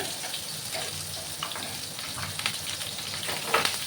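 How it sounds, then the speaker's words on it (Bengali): Chopped onions, two of them, frying in a pan after tempering spices for a small-shrimp kucho chingri dish, a steady close sizzle with light stirring scrapes and taps throughout. "দিয়ে ভালো করে পেঁয়াজগুলো ভাজবো।"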